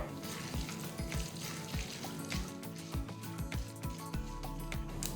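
Dense crackling and popping of mustard seeds spluttering in hot oil while tempering for curd semiya, continuous rapid sputters close by with no talking.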